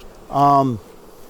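A single honeybee buzzes briefly past at a hive during fall management, one close, droning tone that falls in pitch and fades within half a second, heard alone.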